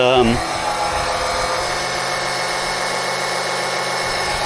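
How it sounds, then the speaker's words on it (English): A small pump circulates diesel fuel back into the bottom of a tank during fuel polishing, a steady close mechanical whir that starts with a brief falling whine and holds constant. "I'm just simply pumping fuel back into the bottom of the tank through this intake"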